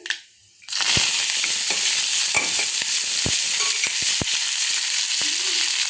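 Onions, green chillies and curry leaves hit hot oil in a pan and burst into a loud, steady sizzle that continues throughout, with occasional sharp pops and clicks of stirring, close by and with no voices.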